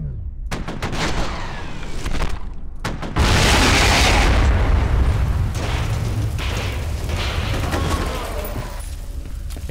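Gunfire from a powerful weapon in the video game F.E.A.R., sharp shots cracking in short bursts before a sustained, booming roar of fire and impacts that fills the rest of the scene, loud and close.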